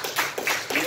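A church congregation claps in a short burst, three distinct rhythmic claps or clap groups in under a second, close and fairly loud.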